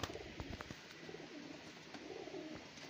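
Chinese pigeon cooing softly in a loft, a few faint, low coos against a hissy background, with a couple of sharp clicks.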